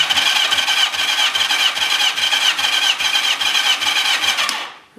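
Starter cranking a Yamaha XJ650 four-cylinder motorcycle engine at full open throttle during a compression test, a steady rhythmic whirring churn with regular pulses that stops abruptly near the end.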